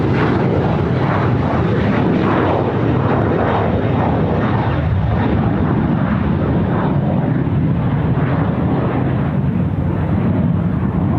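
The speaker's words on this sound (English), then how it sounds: "the Embraer E190 just taken off shortly" An Embraer E190 jet takes off at Sydney Airport, a loud, steady, broadband engine roar that holds for the whole stretch with no talk over it.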